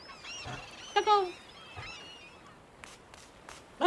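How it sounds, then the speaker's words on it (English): Seagulls calling in the video game My Little Puppy: a few honking, harmonic cries in quick bursts over a soft game ambience, with a louder call cutting in at the very end. "these seagulls are everywhere"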